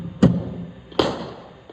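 Two sharp cricket bat strikes on balls fed from a bowling machine during a batting session, each a crisp close thud about three-quarters of a second apart, followed by a fainter tap.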